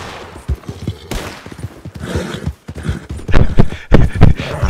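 Galloping horse hooves in the Red Dead Redemption 2 game pound in an uneven, loud rhythm, mixed with bursts of game noise.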